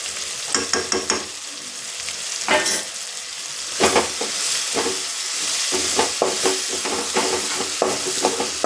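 Spices sizzle in a pan for tomato fried rice, a steady hiss punctuated by irregular stirring clicks and scrapes from a spoon, close and moderately loud with no talking.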